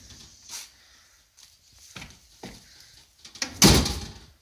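A Peugeot 306 car door is pushed shut with a single close, solid thud, preceded by a few faint rustles and handling knocks.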